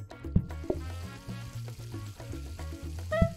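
Food sizzles on the grills of the cooking game PlateUp!, a steady crackling bed of frying with scattered sharp clicks and tonal blips from the game over it, close and moderately loud with no talking.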